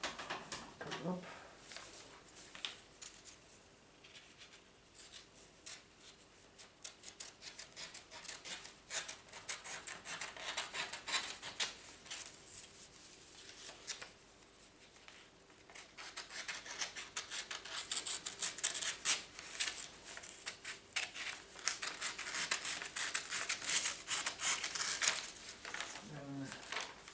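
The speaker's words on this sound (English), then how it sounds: "get scissors, cut it up" Scissors cut through hand-coloured paper cards close up, giving a long stretch of quiet snipping and rasping strokes that grow busier toward the end, with occasional talking.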